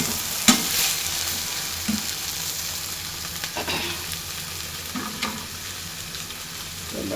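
An egg fries in a pan, a steady soft sizzle with a few brief scraping clicks of a spatula as it is lifted, no voices present.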